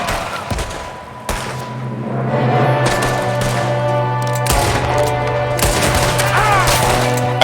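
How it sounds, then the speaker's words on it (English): Rapid bursts of gunfire from Red Dead Redemption 2 in a snowy shootout, with loud volleys and heavy impacts coming in close succession over a sustained rumble. "There's another one shooting from the window."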